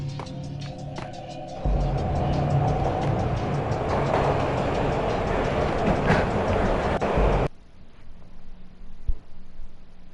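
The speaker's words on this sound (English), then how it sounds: "This was my second train ride of the night." Train ride in the video game Max Payne: a loud, continuous rumble of rail cars with rhythmic clatter, filling the space for several seconds before cutting off abruptly to a quieter hum with a single thump.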